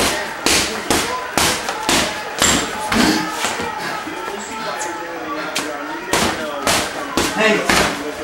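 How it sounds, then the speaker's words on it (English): Punches landing as body shots in a senior fight-science class: a rapid series of sharp, close thumps and smacks in uneven bursts, with people talking and calling out over them. "Body shots."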